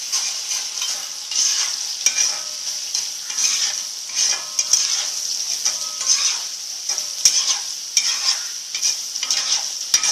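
Chinese-style potatoes frying over a high flame with vinegar added, a steady loud sizzle broken by scraping stir strokes against the pan throughout, with no talking.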